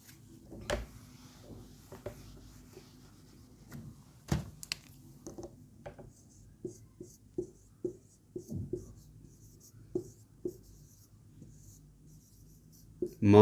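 Pen scratching on paper during a Hindi-language class lesson, a series of short, soft taps and strokes spread across the clip with quiet pauses in between, close and low in level, with no one speaking.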